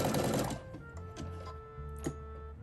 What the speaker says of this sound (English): Put the presser foot down and start sewing.